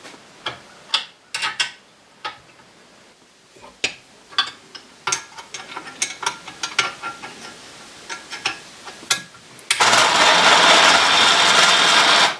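Sharp ratchet clicks come in quick uneven bursts as lock nuts are tightened onto bolts in a knife shop, close and crisp, then a loud broadband rush takes over for the last few seconds.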